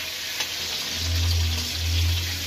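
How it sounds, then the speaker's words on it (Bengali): Cauliflower pieces frying in oil in a home kitchen, a steady close sizzle with two louder swells of bubbling crackle, no talking. "ফুলকপিটাও ভাজা হয়ে গেছে"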